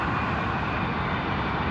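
An Emirates airliner comes in to land at London Heathrow, a loud, steady, broadband engine roar that stays constant and close for the whole stretch, with no voices.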